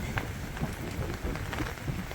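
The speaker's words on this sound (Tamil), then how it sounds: "இன்றைக்கி நல்லா மழை வருது" Steady heavy rain pattering on a surface in New Zealand, fairly loud and continuous, with no voices.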